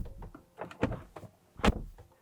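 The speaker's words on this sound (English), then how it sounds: "So this is what the door slam sounds like" Door of a Porsche Macan with an electronic release shutting, a few soft clicks and a low thunk, then one loud solid closing thud near the end, close by.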